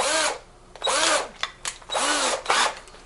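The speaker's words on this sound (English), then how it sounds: "So you can pre-drill it with this if you like." A power drill fitted with a step bit pre-drills a hole in a Hustler Raptor SD60 mower's belt cover, whirring loudly in three distinct bursts separated by short pauses.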